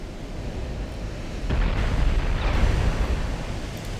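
A deep, rumbling explosion destroys the main tower in a 1940s Italian campaign war game, swelling midway into a sustained roar over steady low battle ambience.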